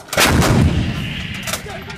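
A single loud, close boom from a Marine artillery gun during a live-fire raid, with a heavy blast followed by a rumbling decay.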